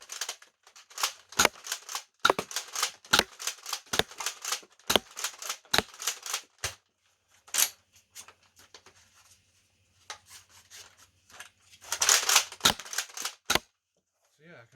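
X Shot Lock Blaster toy firing foam darts, a string of sharp snapping pops in quick irregular succession, close and fairly loud, with a few clacks of priming and a burst of clustered clicks near the end, no talking.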